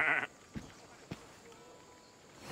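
A goat in the pens in the video game Assassin's Creed Odyssey gives a short, clear bleat, followed by a couple of brief thuds and a quiet ambient background.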